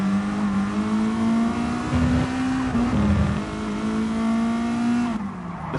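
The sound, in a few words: race car engine in video game GT Sport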